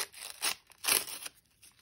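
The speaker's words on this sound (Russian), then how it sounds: "Берем следующий пакетик, открываем." A plastic toy packet is torn open in a few quick, crisp rips and crackles, close and fairly quiet, with short pauses between the pulls.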